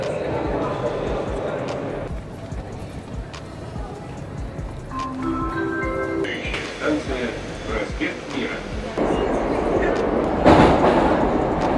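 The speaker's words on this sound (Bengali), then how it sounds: "আমরা এই মুহূর্তে মেট্রোর ভিতরে। এটা হচ্ছে মেট্রোর ভিতরের অবস্থা" Inside a Saint Petersburg metro train at night, a rumbling carriage drone with rattles and rising electric whines runs steadily while a person talks over it.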